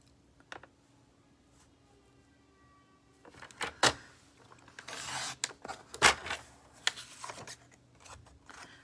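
Scissors cut designer series paper for a card: a quiet stretch with faint rustles, then a run of crisp, close snips and sliding paper scrapes of uneven rhythm.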